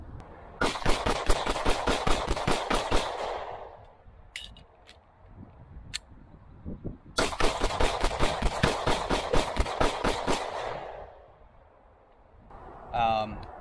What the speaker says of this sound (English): So we're going to start off with a mag dump.